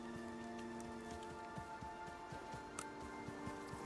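Rain falls steadily in the Icarus survival video game as a faint patter of drops, heard under a constant hum of tones with scattered soft taps and no talking.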